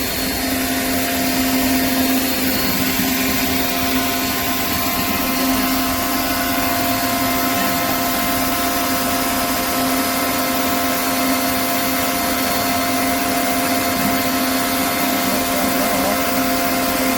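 A JANZ 16-inch stainless steel pressure washer surface cleaner with four wheels scrubs grease, giving a steady, loud, unbroken hiss and roar of spraying water with a droning motor tone and no pauses.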